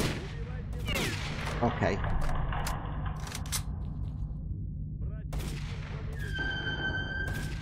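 Gunfire in the STALKER: Call of Pripyat video game, several sharp, loud shots in quick bursts near the start and again near the end, with a voice speaking between them.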